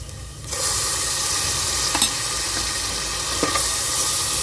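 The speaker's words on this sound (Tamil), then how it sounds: "ஒரு நிமிஷம் நல்லா வதக்கி விடுங்க. அந்த இஞ்சி பூண்டோட பச்சை வாசனை போகணும்." Ginger garlic paste sautés with onions in a hot pan for goat intestine curry, starting with a sudden loud sizzle that keeps hissing, with two spoon scrapes cutting through.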